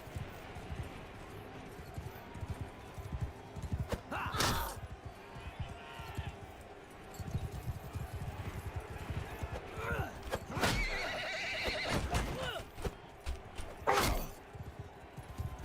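Horse neighing and whinnying in the Mount & Blade II: Bannerlord video game, with several loud whinnies rising over a busy battle din and clip-clopping hooves, in a live-streamed battle.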